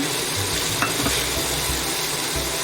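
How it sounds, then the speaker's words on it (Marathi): A spoon stirs chopped French beans and carrots sautéing in hot oil for pav bhaji, a steady close sizzle with repeated soft scraping strokes against the pan. "तर आता फरसबी पण आपण व्यवस्थित असं परतून घेऊया।"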